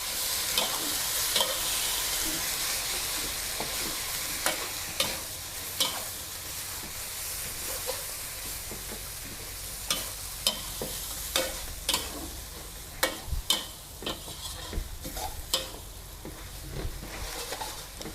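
Dry seafood suki stir-fries in a pan with oyster sauce and seasoning, a constant hissing sizzle punctuated by repeated clinks and scrapes of a spatula against the pan, no voices.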